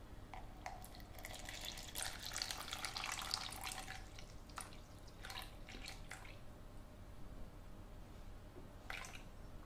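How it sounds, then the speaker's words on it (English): About 50 ml of tepid water is poured for macaron batter, a faint, quiet splashing trickle with scattered drips. "So I'm going to do 50 mils of tepid water."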